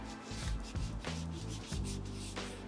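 Tire and trim gel being rubbed onto car trim with an applicator, a close, continuous soft rubbing and wiping in repeated strokes.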